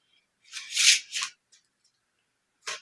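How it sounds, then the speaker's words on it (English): Playing cards shuffled for a card trick in a few short bursts of crisp riffling and flicking, close and quiet, with a final brief snap after a pause. "Make it a pretty good shuffle."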